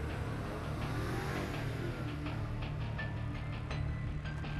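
A car engine rumbles loudly and continuously nearby, its exhaust note swelling and rising as it revs.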